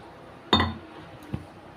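A single bright glass clink rings out as a glass of water is set down, followed a moment later by a softer tap, close by in a quiet home kitchen.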